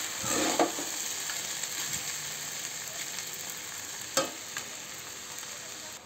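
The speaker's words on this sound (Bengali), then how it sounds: "একটু ভাজা ভাজা হোক, মিডিয়াম আঁচে আছে।" Pulao frying over medium heat in a pan gives a steady, close sizzle with occasional louder scrapes of stirring throughout.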